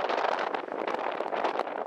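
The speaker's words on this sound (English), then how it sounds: "It's kind of windy, so audio may be tough to pick up here," Wind buffets an outdoor microphone beside a DIY solar-heated spa soaker tub, a loud, steady broadband rumble and roar filling the whole stretch with gusty swells and no talk.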